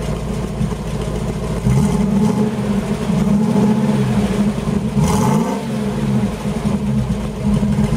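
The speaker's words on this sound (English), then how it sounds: "so we'll give it a couple of revs." An LPG-fuelled V8 engine idles on a freezing night, then revs up twice in strong, sustained pulls before settling back to a rough, steady idle.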